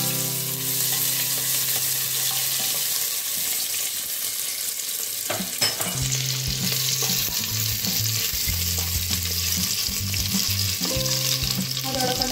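Ginger and garlic frying in a pan for soya chunks biryani, a bright steady sizzle with occasional stirring clatter, set against soft background music and no talking.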